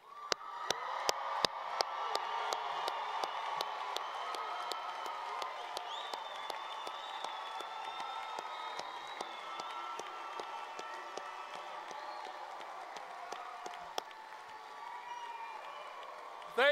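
At a university spring commencement, a crowd on its feet for the graduating class keeps up steady applause and cheering for the whole stretch, a dense, even roar with sharp claps on top.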